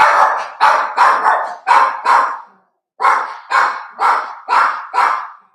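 A dog barks loudly and close by, about ten sharp barks in two steady bursts separated by a brief pause, with no talk over them.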